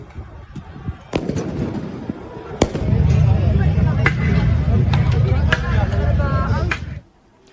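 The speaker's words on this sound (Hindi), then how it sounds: "लोग पटाखे जलाकर पुलिस की तरफ फेंक रहे हैं" Firecrackers set off and hurled toward police during street protests and clashes in France, a dense, loud barrage of crackling bangs with sharp individual pops over a steady roar, ending abruptly.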